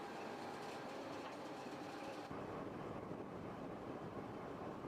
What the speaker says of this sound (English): that's a for real armored train